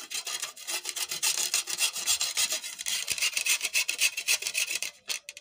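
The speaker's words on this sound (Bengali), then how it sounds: "একই সাথে গুড়টাও গ্রেট করে নেব আর গুড়টাই বড়টার সাহায্যে গ্রেট করে নেব।" Jaggery being grated on a large grater for a Bengali steamed pitha, heard as rapid continuous rasping strokes, close and steady, with no talking.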